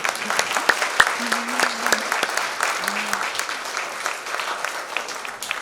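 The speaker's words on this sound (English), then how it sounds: "I think we should clap for them." Audience applause for educators at an Armenian Genocide education luncheon, a steady wash of clapping from a seated crowd lasting several seconds, with a few brief voices mixed in.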